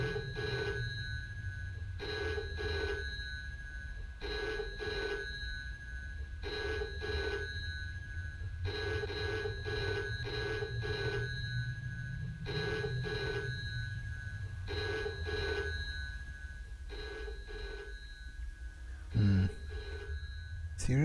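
An old-style telephone bell in the game Experience 112 rings in repeated double bursts, about a dozen trills spaced evenly over a low ambient rumble, with a brief voice near the end.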